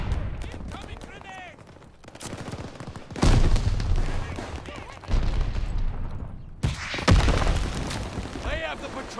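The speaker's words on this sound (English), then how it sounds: "Incoming grenade." A grenade explodes amid gunfire in a video game, with deep booms and rattling bursts of shots rising and falling, while voices talk over the battle.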